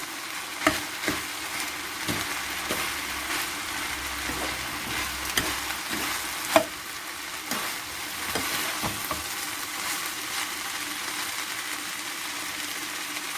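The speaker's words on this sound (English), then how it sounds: "Now guys, I'm gonna tip in my chopped pineapple." Chopped pineapple stir-fried into turmeric rice in a hot pan, a steady loud sizzle broken by repeated scraping stirs and clatters close by.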